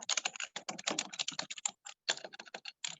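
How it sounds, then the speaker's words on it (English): Someone types on a computer keyboard with rapid, uneven clicks and clacks in short bursts and brief pauses, close and clear with no voices. "I'm not sure who's typing"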